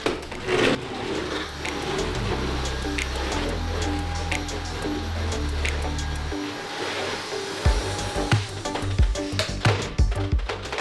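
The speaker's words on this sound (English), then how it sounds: "And now, last thing to do is vacuum it all up." A vacuum cleaner cleans up at home after seasonal Christmas decorations are packed for storage. Its motor holds a loud, steady drone for several seconds, then shifts pitch, with a few knocks and bumps as it moves around.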